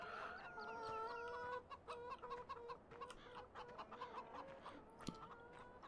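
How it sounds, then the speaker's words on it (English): Several chickens cluck close by in a farmyard, overlapping calls repeating steadily throughout with no talking. "I find myself trying not to walk into the chickens"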